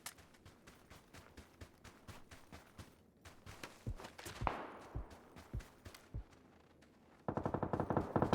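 PUBG gunfire on the Vikendi map: single shots and short bursts with footsteps between them, ending in a loud, rapid sustained stream of minigun fire.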